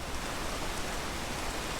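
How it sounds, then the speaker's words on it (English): Steady rain pours down in the video game PEAK, a dense, constant hiss of falling drops filling the space, loud and unbroken with no talking. "To wait for this rain to stop raining."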